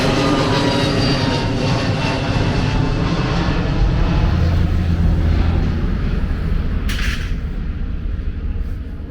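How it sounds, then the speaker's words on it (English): A Delta airliner takes off from the airport at Montego Bay, its loud, steady jet roar dominating throughout and slowly easing toward the end, heard from outdoors nearby. "another plane lift off right there"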